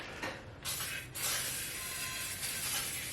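WD-40 lubricant sprayed from an aerosol can in short hissing bursts, the spray sounding close and steady with a brief pause before a longer continuous jet.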